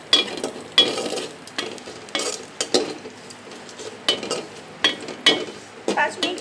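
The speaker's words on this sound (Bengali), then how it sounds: "ভালো করে ভেজে নিচ্ছি নাড়াচাড়া দিয়ে" Crushed cashews, pistachios and almonds frying in a pan while being stirred: sharp, rhythmic spatula scrapes about every half second over a light sizzle.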